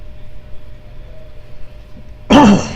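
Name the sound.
coughing and throat clearing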